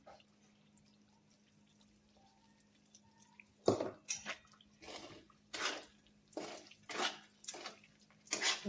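Ground edible gum being stirred slowly in a pan while making gunder laddu, giving a series of scraping, clinking strokes close by after a quiet start, with no talking.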